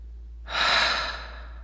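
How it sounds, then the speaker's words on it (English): A single long, deep exhale, close and soft, rising as a breathy rush of air and fading out over about a second against quiet low hum. "let's just take a moment to have a nice, deep exhale"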